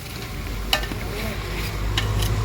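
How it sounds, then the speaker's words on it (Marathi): Oil pouring into a hot pan inside a vehicle while masala rice is being cooked gives a steady sizzle and frying hiss. A couple of soft clinks rise above the constant low hum, and no one speaks. "आता तेल टाकायचं चालू आहे."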